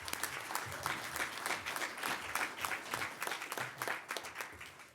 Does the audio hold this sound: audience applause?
yes